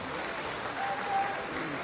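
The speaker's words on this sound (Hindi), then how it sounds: "एक बार यार जोरदार तालियों से आपका स्वागत और आपका अभिनंदन।" Crowd applause welcoming a guest at a political rally: a steady, dense wash of clapping from many people, even in level across the short moment.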